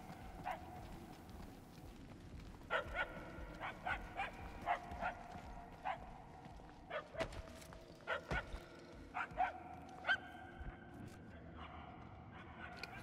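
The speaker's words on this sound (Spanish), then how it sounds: "no se escucha bien derecha e izquierda los ladridos" Repeated short dog barks in the video game Guardians of the Galaxy, sounding at irregular intervals of one to two seconds, moderately loud and clipped, over a low ambient game background with no talk.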